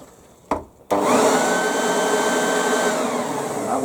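A Hyundai HYBV3000E electric leaf blower is switched into blow mode: a brief click and pause, then a loud, steady rushing whir of the motor and airflow that holds close and constant.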